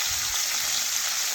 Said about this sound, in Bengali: মাছগুলো এক পাশ ভাজা হয়ে যাওয়া পর্যন্ত কিছুক্ষণ অপেক্ষা করে নিচ্ছি